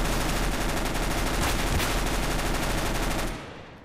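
Sustained, rapid automatic gunfire rattles loudly and close up in Counter-Strike: Global Offensive, holding steady for over three seconds before cutting off.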